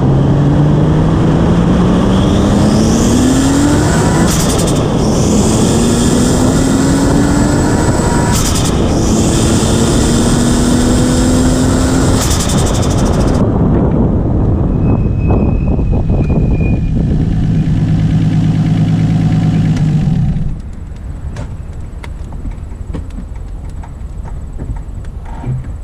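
A turbocharged Nissan Skyline GTR, smoking from its turbo, accelerating through rising engine pulls and gear changes, loud and close, then easing off to a quieter idle with faint ticking.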